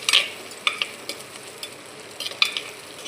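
Garlic sautés in a pan for fish curry, a soft steady sizzle broken by clicking stirring scrapes from a utensil, with no voices.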